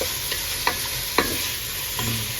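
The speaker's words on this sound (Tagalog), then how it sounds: "gigisa na natin yung hipon ha" Shrimp sautéing in a cooking pot for ginataang langka with bagoong alamang: a steady, close sizzle with a few sharp spatula scrapes and clicks against the pot, and no talking.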